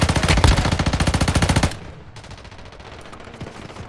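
Pulemyot 762 machine gun fire in Warzone Mobile: a loud, close, rapid sustained burst of automatic fire that cuts off, followed by quieter, more distant bursts of gunfire.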